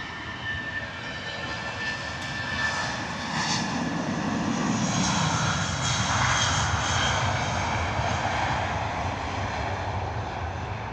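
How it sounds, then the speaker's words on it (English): Airliner engines at Heathrow spool up to takeoff power as the jet rolls and accelerates down runway 27 right, a steady, loud, broad roar that swells and holds for the whole stretch. "rolling down runway 27 right, slow roll and then setting power"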